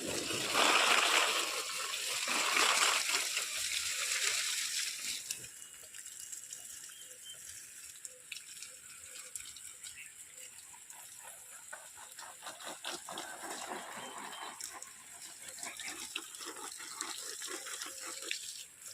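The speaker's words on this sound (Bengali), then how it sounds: "এখন তো অর্কিডে জল দিচ্ছি" Water pours from a hose or can onto orchids and other plants, starting as a louder gush and then settling into softer spattering and dripping on leaves, with no voices.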